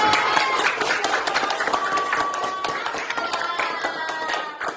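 Classmates clap for a student group in a school lesson, a lively, uneven patter of many hands with a faint tone running under it, continuing steadily throughout.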